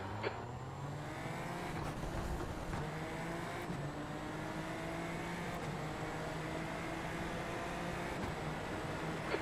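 A race car launches from a standing start, its engine roaring steadily across the whole stretch with rising harmonic whine as it accelerates, dense and continuous with broadband noise, no pauses or voices.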